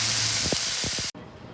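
A tomahawk steak sizzles loudly and steadily on a hot pan, a close, dense hiss with a few spitting pops that stops abruptly.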